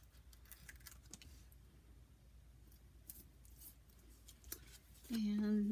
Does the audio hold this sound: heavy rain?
no